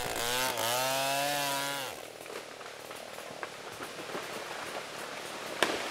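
A chainsaw cuts into an 80 cm wide tree in a Cameroon forest, a loud buzzing whine that bogs down and cuts out after about two seconds, followed by quiet forest ambience with faint scattered sounds.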